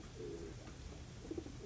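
A homing racing pigeon, half Rocky Ridge White and half Black Eagle, back from a race, gives soft low coos in a loft with steady background noise.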